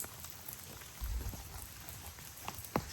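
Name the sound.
light rain falling at night campsite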